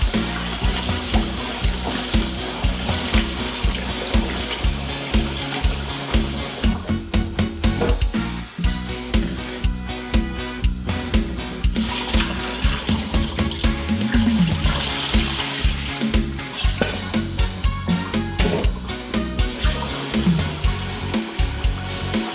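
Pork intestines being washed under a running tap, a steady loud gush of water with wet sloshing and handling sounds throughout.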